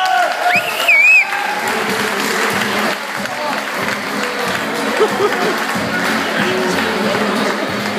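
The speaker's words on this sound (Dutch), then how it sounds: "Nog een duidelijk applaus voor onze 4 topploegen." A crowd at a village fair in Nederename applauds the top four teams with loud, sustained clapping and some cheering, with a whistle near the start and voices mixed in.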